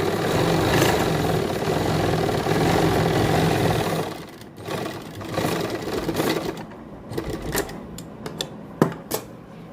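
A sewing machine stitches waist pleats into a ladies' kameez, running in a steady, close whir for about four seconds before giving way to quieter scattered clicks and fabric handling.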